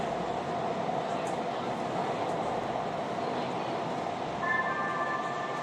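Los Angeles Metro train at 7th Street station, a steady loud rumble of the moving rail car throughout, with faint talk under it and a brief high tonal chime or brake squeal near the end.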